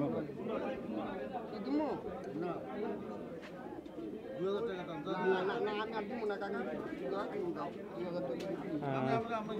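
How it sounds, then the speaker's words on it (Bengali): Busy outdoor pigeon market at Saruliya, Bangladesh, with many people talking and bargaining, pigeons cooing and fluttering close by throughout. "দেখতে পাচ্ছেন এই যে এখানে কবুতর বেচা কিনা চলছে।"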